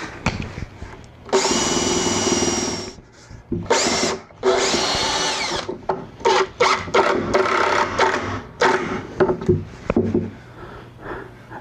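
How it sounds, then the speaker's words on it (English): A power drill drills and countersinks holes for the stretchers of a wine barrel table, whining in bursts of several seconds that alternate with shorter stop-start pulses, up close and loud. "I can go through and drill out and countersink for the four stretchers around the edges"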